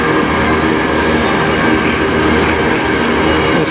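A potash freight train made up entirely of covered hopper cars rolls past close by, a loud continuous roar of wheels and rail noise with steady clatter, filling the whole stretch without pause.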